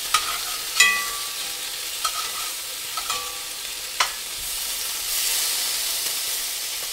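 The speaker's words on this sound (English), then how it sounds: "Now the bacon's ready to be flipped, so we just gonna flip some things." Bacon sizzles and crackles in a hot pan, with a few sharp scrapes and clinks as pieces are flipped, and a louder hiss near the end.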